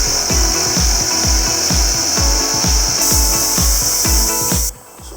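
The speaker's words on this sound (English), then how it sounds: "when I turn this on, it will not shut off the tank, it will just keep going until the relief valve blows." A pancake air compressor with a faulty pressure switch that won't shut off runs loudly. Its motor hums beneath a fast, steady thumping piston rhythm, then it abruptly stops near the end.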